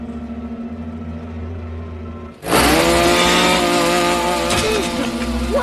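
A chainsaw roars to life after a quiet, low idle, then runs loud and steady with a harsh, buzzing whine that wavers slightly.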